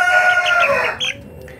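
Young laying hens, one to two months old, give a brief, close burst of clucking and chirping calls that fades after about a second.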